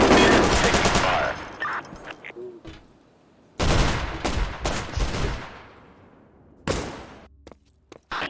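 Bursts of automatic gunfire in the video game True Combat: Elite, loud rapid volleys separated by brief pauses, with sharp single shots near the end.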